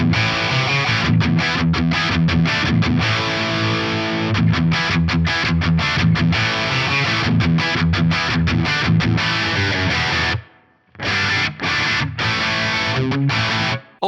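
Crunchy distorted electric guitar riffing through an Axe-Fx III gold plate reverb with mix and time lowered, a spacious reverb tail, steady and loud, with brief pauses between phrases near the end.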